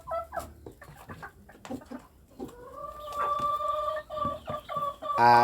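Chickens cluck and squawk close by in a busy chorus inside a coop, with one bird holding a longer, rising call near the end.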